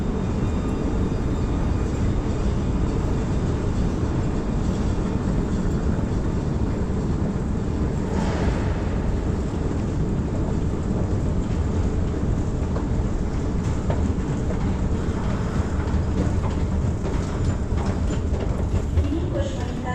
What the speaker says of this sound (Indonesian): Dari Chang Shaolin pergi ke LCC naik MRT laluan Putrajaya.